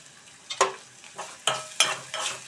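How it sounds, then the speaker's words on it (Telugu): Okra fries with curry leaves in a pan, a soft sizzle broken by several sharp stirring scrapes and clinks at irregular intervals, close and fairly quiet. "ఇవైతే వేగుతూ ఉంటాయి. కొంచెం కరివేపాకు వేసుకున్నామండి."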